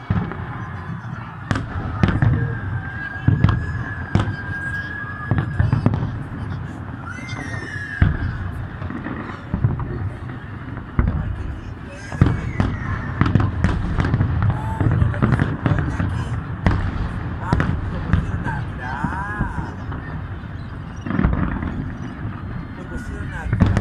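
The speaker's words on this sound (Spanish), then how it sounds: "Así que esperemos disfrutar de los fuegos artificiales." New Year fireworks burst over Viña del Mar, Chile, in a continuous barrage of booming explosions and crackling reports, loud and dense throughout, with a crowd cheering and people talking underneath.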